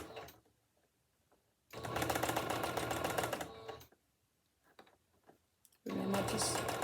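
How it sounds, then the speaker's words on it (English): A home sewing machine stitches lace onto ribbon in two loud, fast-rattling bursts, each lasting a couple of seconds, separated by quiet pauses with faint handling noises. "Remember to stretch your lace as you're sewing it to your ribbon."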